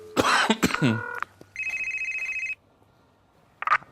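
A telephone rings once in a pulsing burst of about one second, on a handset left where it belongs during a call. A cough or throat clearing comes just before it, and another short rustle follows after a pause.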